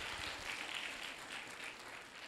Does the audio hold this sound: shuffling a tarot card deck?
no